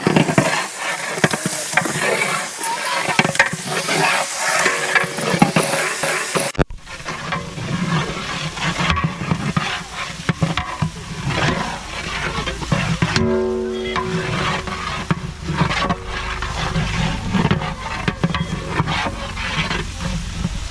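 Garlic paste fries in a large pot of oil for a 15 kg chicken dum biryani, a dense, steady sizzle with intermittent scraping from stirring, loud and close with no voices.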